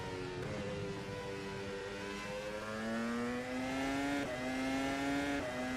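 Formula Pro racing car engine in the sim game rFactor 2, a high-pitched roar climbing steadily through the revs with a brief gear-change dip, moderately loud and alone.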